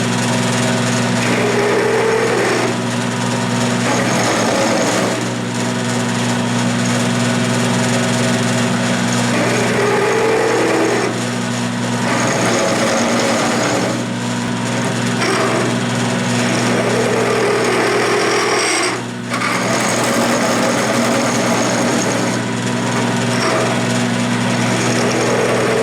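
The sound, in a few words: belt sander truing up a dial indicator mount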